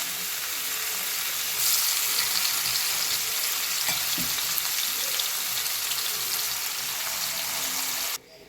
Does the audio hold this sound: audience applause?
no